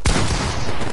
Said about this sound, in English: Kevin keeps on shooting through my wall.